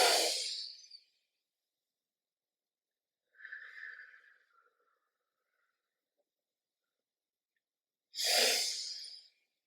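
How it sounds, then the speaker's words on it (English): Slow, deep breaths during a children's rocket-ship breathing exercise: a strong airy breath at the start, a softer, shorter breath midway, and another full, rushing breath near the end, each separated by silence. "We'll do this for 5 breaths."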